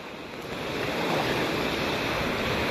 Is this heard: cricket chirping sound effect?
no